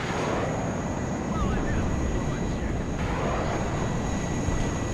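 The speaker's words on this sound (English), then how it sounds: "Supply helicopter being fired at." Supply helicopter under fire in the video game WARNO, a steady droning rotor and engine roar that runs continuously and loudly, with battle ambience underneath.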